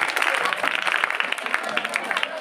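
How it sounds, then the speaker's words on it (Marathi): Applause for the student hosts at a Class 10 farewell ceremony at Z. P. High School Banoti: a dense, steady crowd clapping that runs for the whole stretch. "टाळ्या वाजवा त्यांच्यासाठी आपण."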